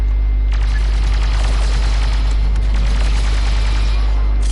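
Rapid, dense blaster and rifle gunfire from the Star Wars Battlefront 2 campaign on PS4: overlapping volleys and bursts crackle continuously over a deep, constant low hum.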